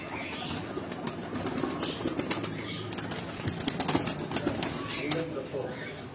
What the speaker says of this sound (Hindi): ये सारे ब्रीडर कबूतर हैं